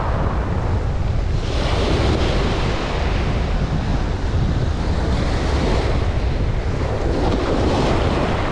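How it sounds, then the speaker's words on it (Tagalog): Strong wind blows at the seashore at De La Paz, Batangas City, buffeting the microphone in a loud, continuous roar mixed with crashing surf, with no voices over it. "Sobrang lakas ng hangin."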